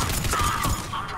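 Rapid bursts of gunfire from a weapon in the video game Mass Effect 3, loud cracking shots firing in quick succession amid battle noise, with a voice faintly underneath.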